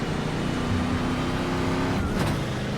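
A race car in iRacing accelerates hard out of its pit stall, the engine a loud, steady roar that rises as it pulls away, with a brief whoosh near the end.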